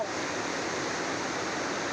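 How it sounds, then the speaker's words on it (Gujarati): Monsoon rainwater pours over a hillside Mataji temple in Gujarat, making a steady, dense, loud rushing roar that holds unbroken throughout. "માતાજીના મંદિર ઉપર પાણી પડે છે"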